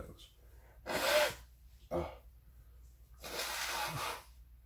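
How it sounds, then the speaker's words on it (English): A person blows their nose in a few short, forceful bursts: one strong blast, a brief snort, then a longer final blow, close and fairly loud against a quiet room. "I'll just blow my nose."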